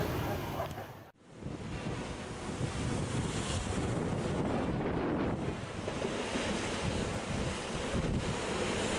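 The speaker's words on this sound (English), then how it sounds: "Massive waves repeatedly slammed against the cliffs, creating towering explosions of water" Massive ocean waves slam against cliffs in a loud, continuous roar of surf and rushing water, heavy with wind buffeting, with a brief dropout near the start.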